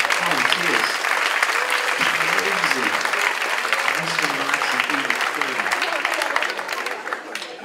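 Audience at a hypnotist stage show at a community college claps steadily for several seconds, loud sustained applause with someone speaking over it, fading slightly at the end.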